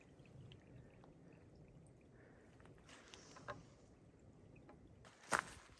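A small woodland stream flows quietly along a hiking trail, a faint steady trickle and gurgle with a brief splash near the end.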